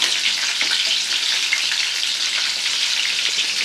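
Prawns sautéing in a pan for a prawn fry, giving a steady, close, continuous sizzle and crackle with no one talking.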